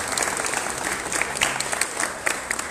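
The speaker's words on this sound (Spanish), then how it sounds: "Fuerte el aplauso para Juani López." An audience at a book presentation claps steadily for a speaker being welcomed, a dense, close patter of many hands with a few sharper claps, sustained for a few seconds with no talking.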